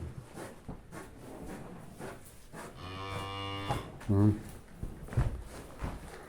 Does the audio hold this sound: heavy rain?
no